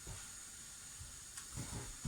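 Steam hisses softly and steadily from a lid-covered pan of cottage pie, a faint continuous high hiss with a few low bumps of cookware.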